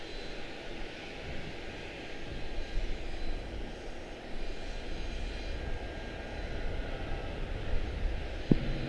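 A Delta airliner taxis for departure at Charlotte-Douglas International, its engines a low, even rumble at moderate distance that swells a little toward the end, with no voices over it.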